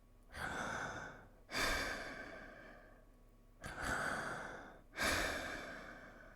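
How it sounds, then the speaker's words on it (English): Slow, heavy breaths, four long drawn exhalations with pauses between, close and rasping, with no voices. "There was a heavy breathing somewhere in the dark behind us."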